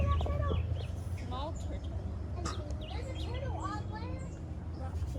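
Orange-beaked water bird growling among other wildlife on the water, rough throaty calls repeating under steady outdoor background noise and nearby talking.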